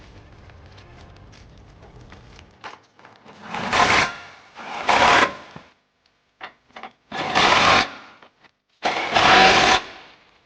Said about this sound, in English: now using our 21mm swivel socket, we're going to go ahead and tighten it up